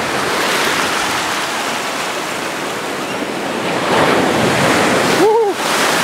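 Ocean surf breaks and washes steadily on the beach, a loud continuous roar with wind buffeting the microphone, and a brief high voice rings out near the end.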